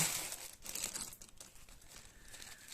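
Close, crackly crinkling of thin plastic bags being handled, brief and rustling, with no talking.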